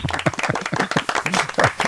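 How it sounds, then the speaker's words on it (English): A small group of people claps for Sam in a radio studio, a quick burst of crisp, closely spaced handclaps lasting under two seconds with no talking. "Have a round of applause for Sam."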